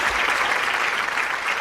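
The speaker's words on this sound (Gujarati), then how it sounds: "આ વાત ઉપર તાળી નહીં વગાડો" A studio audience claps steadily at a television courtroom-style interview show, a dense even patter of many hands held at moderate level throughout, with no voices over it.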